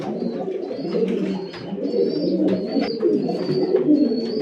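Kaldoma pigeons coo in a pigeon loft: many overlapping low, throaty coos roll continuously up close, layered with occasional soft chirps and rustles, and no one speaks.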